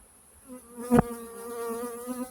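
Honey bees buzzing at a hive in a colony sick with chronic bee paralysis virus, a clear, close, continuous droning hum with one bee briefly swelling louder as it passes.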